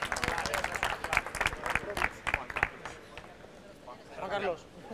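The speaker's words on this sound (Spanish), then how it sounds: "Un aplauso a Juan Carlos." An audience at an entrepreneurship event claps in a busy burst that fades halfway through, followed by a voice speaking over the quieting room.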